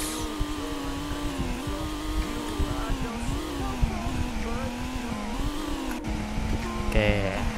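A car in the Roblox game Car Driving Indonesia revs up, its droning engine tone wavering and climbing in pitch as it pulls away, with a voice talking over it.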